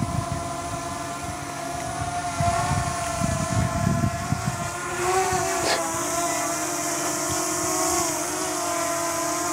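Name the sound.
Potensic Atom SE drone coming in to land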